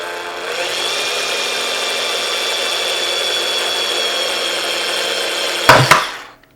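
A power drill runs steadily at a high whine, boring slowly through a plastic Fiji water bottle, then stops with a couple of sharp cracks as the bit breaks through; no voices.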